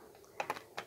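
A few quick, crisp clicks and riffles in a quiet room as a deck of guardian angel cards is shuffled, in two short bursts.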